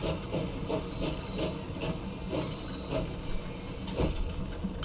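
A train pulls into a station in the Transport Fever 2 video game: rhythmic wheel clicks roll past over a steady hiss of rail noise, with a faint high squeal on top, moderately loud and without talk.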